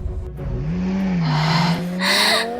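During a car chase, a car's tires squeal in a long, rising screech over engine roar as the car accelerates, loud and close, with a second burst of hiss near the end.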